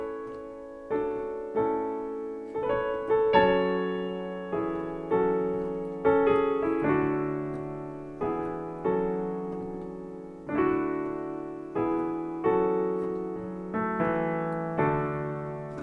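Solo piano plays a song's break, with rolled chords struck in a steady, unhurried rhythm. Each chord decays before the next one, and the playing is moderately soft and intimate with no talking.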